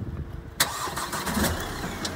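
A car engine cranks and catches with a sharp onset, then keeps running at a steady mid-pitched idle, close and fairly loud, during a test of a just-repaired car bought secondhand.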